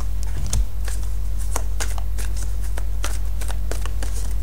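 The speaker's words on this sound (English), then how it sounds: "So go ahead and shuffle, and we'll see what we get this week." Angel reading cards are shuffled by hand in quick, light riffles and soft taps, close up over a constant low electrical hum.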